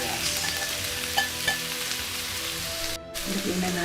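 Onions fry in a pan that already holds fatty beef bones, making a steady crackling sizzle with a few louder pops and stirring scrapes. The sound dips briefly near the end and then resumes, with no speech.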